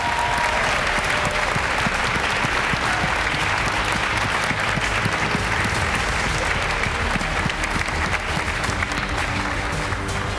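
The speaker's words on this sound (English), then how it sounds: "please now, clap your hands and stomp your feet like crazy for Fabian König." Loud, sustained applause from a large audience, dense and steady clapping throughout with no pauses.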